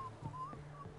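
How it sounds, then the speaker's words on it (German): Someone in The Witcher 3 whistles a short, quiet, wavering tune of a few notes over low background ambience, with no talk. "Pfeifen."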